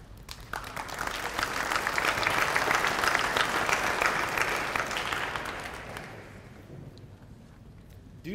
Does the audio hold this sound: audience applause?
yes